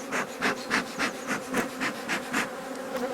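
Honey bees buzz in an opened beehive, a close droning hum with rhythmic swells and scraping rubs pulsing roughly three times per second, no voices.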